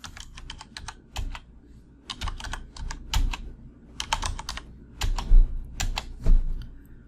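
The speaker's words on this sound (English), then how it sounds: "Let's start by typing some in a blank symbol cell." Keys clatter on a computer keyboard while a symbol is entered into a blank cell of a trading watch-list program, coming in quick bursts of close, crisp clicks separated by brief pauses, with no talking.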